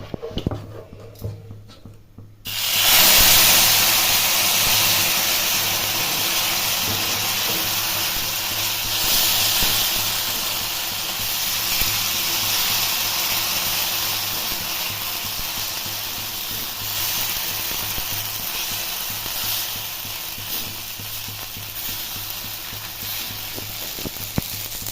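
Tomato pitha batter poured onto a hot oiled tawa bursts into a loud, steady sizzle that hisses on close by, easing slightly over time after a short quieter moment at the start.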